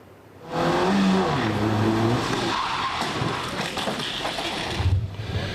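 A car brakes hard on a road near Sant'Artemio in the province of Treviso, tires skidding and squealing loudly for several seconds before the vehicle stops, with traffic noise around.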